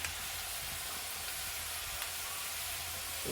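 Ginger garlic paste sizzles and sautés in a hot pan while egg gravy is being cooked, making a steady, soft, continuous frying hiss with no talking over it.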